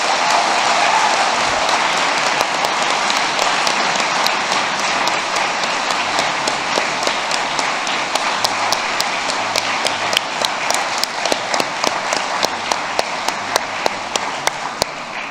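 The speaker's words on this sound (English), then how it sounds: "Can we give them all a huge round of applause?" A large ceremony audience at a literary prize event applauds loudly and continuously. The applause thins toward the end into sparser, distinct individual claps.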